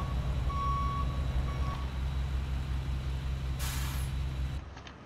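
A fire truck in the EmergeNYC game gives a short sharp hiss of air brake release near the end, over a steady low engine idle, with no talk.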